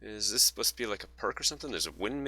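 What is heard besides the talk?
No everyday noises stand out.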